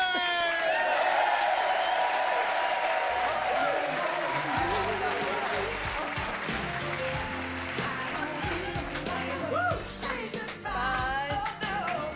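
Studio audience applause and cheering on a 1994 British Saturday-night TV entertainment show, a broad, loud wash of clapping sustained throughout, with music and voices mixed in over it.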